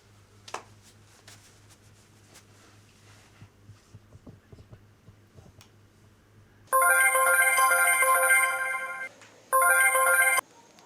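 A mobile phone rings out loud and near on an outgoing call, a bright warbling ring tone sounding in two bursts after several seconds of quiet room hum and faint handling noise.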